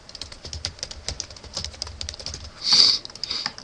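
Rapid fingers patter over a computer keyboard in a quick, uneven run of close, soft clicks, with a brief louder hiss near the end and no voices.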